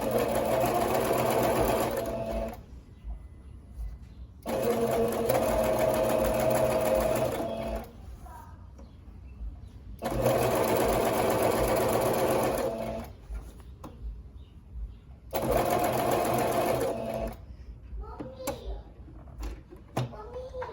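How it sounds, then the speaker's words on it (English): Home sewing-machine stitching around the leg hole of a cloth diaper cover, four sustained runs of steady motor whir separated by pauses, with a voice and light handling noises in the gaps. "we're gonna sew that all around our leg hole"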